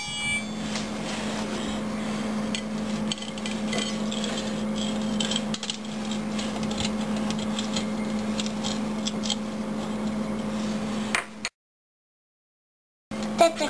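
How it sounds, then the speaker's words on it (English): A utensil stirs egg yolks with a quarter cup of sugar in a bowl for homemade eggnog, giving a steady run of soft scraping and light clinks, then a brief silence and a final clink. "I'm going to stir the yolks with the sugar"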